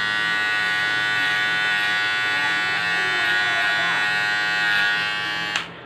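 A Kemei KM-6330 electric shaver runs with a steady, close, bright buzzing hum that holds even for about six seconds before cutting off abruptly at the end.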